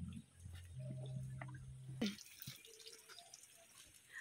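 Mountain stream water flowing and splashing steadily close by, a continuous watery wash with no talking.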